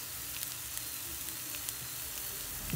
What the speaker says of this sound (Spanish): a que se frían muy bien estas piezas del pollo y estas papitas